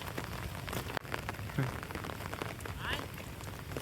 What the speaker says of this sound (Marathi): बराच पाऊस पडतो आहे